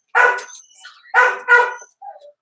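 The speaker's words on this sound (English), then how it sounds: "The dogs are barking because they probably see somebody they know." Dogs bark in quick bursts: a pair of sharp barks, a pause, then two or three more, ending with a short whine; close and fairly loud, no voices.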